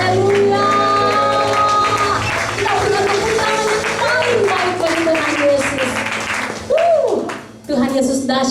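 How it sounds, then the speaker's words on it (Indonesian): A church congregation at a Sunday worship service at GBI Pademangan claps for Jesus, with steady crowd applause running beneath a loud amplified voice and music throughout. "Kita berikan tepuk tangan yang paling baik bagi Tuhan Yesus"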